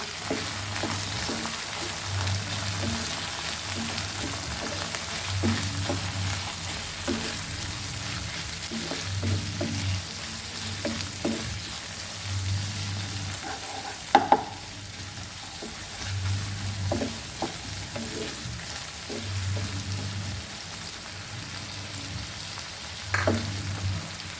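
Onion and chana masala ingredients frying in a pan, a continuous close sizzle with regular low scraping stirs and a few sharp clinks of the spoon against the pan.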